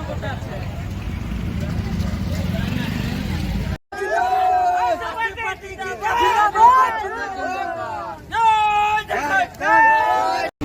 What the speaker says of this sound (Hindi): उस कार्यक्रम में हजारों लोगों की भीड़ एकत्रित हुई